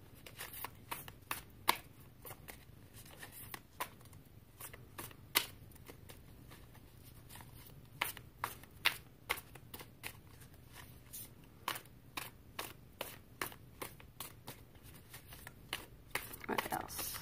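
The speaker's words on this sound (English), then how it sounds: "I know this is a very odd deck to be shuffling." A deck of cards being shuffled in repeated quick riffles, sharp crackling bursts spaced irregularly, fairly close, over a faint low background hum.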